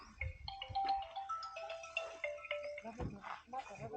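A phone ringtone plays a bright, stepping electronic melody for several seconds while people talk over it nearby.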